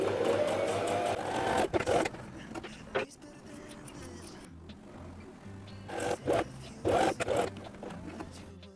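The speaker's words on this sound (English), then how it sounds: "Now stitching the sleeves." Sewing machine stitching the sleeves of a summer dress in short loud bursts separated by quieter pauses with fabric handling and rustling in between.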